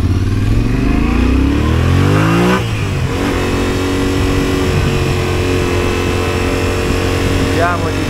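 A Yamaha Ténéré 700 rally motorcycle revs hard with a rising engine note as the rider accelerates, followed by a steady loud drone close to the mic.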